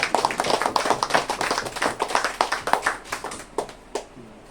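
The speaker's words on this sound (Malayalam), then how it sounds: "വലിയൊരു കൈയടി എല്ലാവരും" Audience applause at a National Farmer's Day 2024 gathering in Karimkunnam during a shawl-honouring ceremony: a crowd of fairly close, brisk, irregular hand claps that thin out and fade toward the end.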